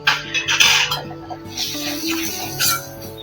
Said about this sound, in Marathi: बेसन याच्यामध्ये छान परतून घ्यायचंय